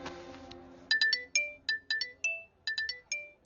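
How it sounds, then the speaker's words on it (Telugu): A phone ringtone for an incoming call plays as a quick melodic series of bright electronic beeps in a lively rhythm, following a softer musical tail, fairly close and clear. "నన్ను ఇది ఫోన్ చేసిందండి."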